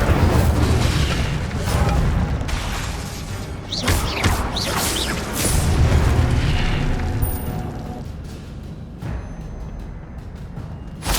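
Incendio fire spell cast in the video game Hogwarts Legacy, a loud bursting whoosh of flame with booming impacts repeating through the clip over a steady rumbling game background.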